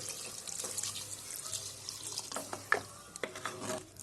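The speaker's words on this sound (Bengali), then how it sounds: "এবার আমি জল দিয়ে দিচ্ছি।" Water being poured into a pan of goat leg curry after the masala is fried down, a steady splashing wash with a few sharper drips and clinks, fairly close and alone without talk.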